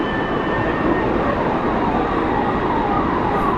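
An ambulance siren wails steadily, partly buried under a dense, continuous wash of traffic and street noise.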